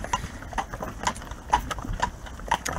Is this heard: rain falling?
no